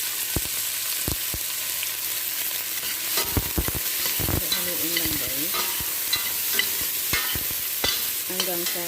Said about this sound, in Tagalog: Ayan guys, ilagay ko yung sibuyas.